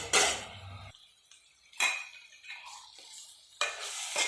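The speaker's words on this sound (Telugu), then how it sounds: "అల్లం వెల్లుల్లి పేస్ట్ కూడా బాగా ఫ్రై అవ్వాలి. పచ్చివాసన పోయేంత వరకు బాగా వేపుకోవాలి." Ginger garlic paste frying in a pan for a cashew drumstick curry, with bursts of sizzling as a spoon stirs and scrapes, separated by quieter gaps, close by.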